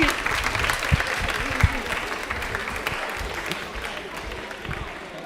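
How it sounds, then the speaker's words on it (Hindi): Audience applause at a quiz show about Indian Railways, steady dense clapping from a crowd that carries on for the full stretch, loud and close, with a few sharper claps standing out. "ताली एक बार वापस जोरदार बजा दीजिए।"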